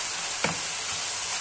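Minced meat and chopped green pepper frying in a pan, giving a steady bright sizzle throughout, with a brief scrape of a utensil stirring partway through and no talk.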